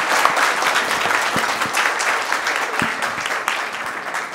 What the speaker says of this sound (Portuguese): senhoras e senhores, uma salva de palmas